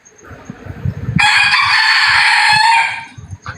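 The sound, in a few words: chicken crowing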